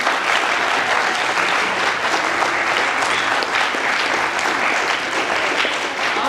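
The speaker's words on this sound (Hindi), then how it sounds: "जो बच गए हैं उनसे अनुरोध कि वो हमारे अभिनेताओं के लिए तालियां बजा दें।" An audience applauds the actors after a stage play, with steady, dense clapping from a sizable crowd that sustains evenly throughout.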